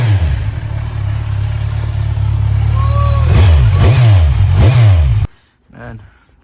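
Kawasaki Ninja 1000 with its muffler removed, revving close and loud with a deep rumbling exhaust, climbing through several sharp throttle blips before cutting off abruptly.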